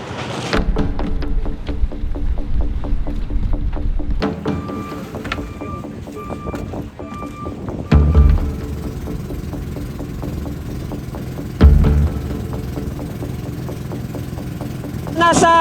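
A large motorized outrigger boat heading from Basey, Samar to an island chugs along with a steady engine drone and rhythmic knocking, with louder thumps from the hull meeting waves and voices talking over it now and then.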